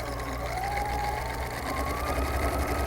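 A sewing machine runs continuously, stitching a regular 5/8 inch seam through two layers of coat fabric, a steady close mechanical whir with a fast, even needle rhythm.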